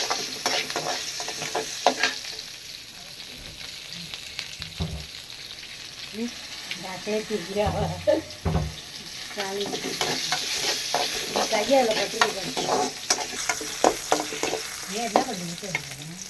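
Fennel seeds and onion sizzling in hot oil for a mutton curry, a loud continuous crackle that swells and fades as a spoon stirs and scrapes the pan nearby, without any talking.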